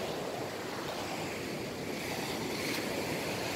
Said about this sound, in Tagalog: Grabe ang dagat niya, no?